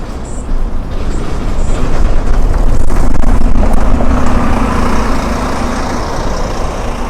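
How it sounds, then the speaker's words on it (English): Loud road traffic rumbles past on the High Street of Edinburgh's Royal Mile, engines droning and swelling as vehicles pass close by, with a steady low hum throughout. "Move for all the traffic, what a noise."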